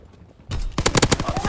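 An artillery strike in Call of Duty: WWII begins with a heavy thump, then a fast, loud string of booming impacts pounds in a rapid rhythm.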